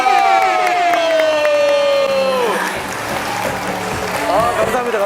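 A crowd at a pop-up dance class claps and cheers loudly, with a long gliding vocal whoop sliding downward over the first half before the applause and shouting carry on to the end.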